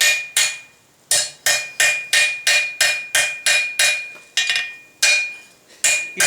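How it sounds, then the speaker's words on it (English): A small hammer taps a steel padlock shackle in a quick series of about fourteen sharp metallic strikes, each ringing briefly, close and loud, with short irregular pauses between groups. "So grab a smaller hammer."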